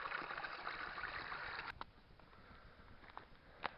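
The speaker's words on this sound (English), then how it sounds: "It sounds like a proper waterfall now behind me where I unblocked that ditch" Water rushes from a freshly unblocked ditch in Scotland, a steady hiss that drops lower partway through, with a few faint knocks and splashes nearby.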